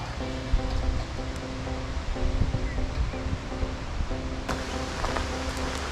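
The Niagara River rushes past upstream of Niagara Falls in a continuous broad wash of flowing water, with a faint tonal hum running beneath the steady surge.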